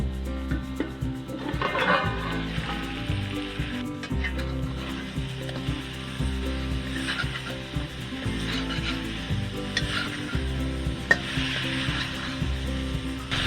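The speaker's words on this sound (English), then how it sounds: "Cover it, cook it for some time. Keep stirring in between." Cherry tomato curry sizzles and fries in a pan while a utensil stirs and scrapes it in repeated close strokes, a steady crackle running underneath.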